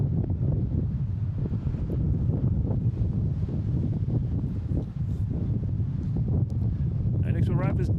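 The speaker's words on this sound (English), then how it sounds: "Kelly, it's a little windy here today." Wind buffets a microphone at Boston Logan International Airport with a continuous low rumble and gusty roar, with a faint voice mixed in.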